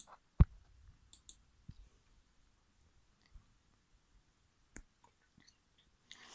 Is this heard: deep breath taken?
no